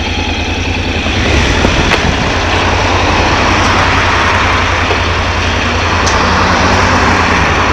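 Motorcycle on a ride out to Castle Acre castle, its engine a loud, steady drone throughout with a rumbling low end and no talking.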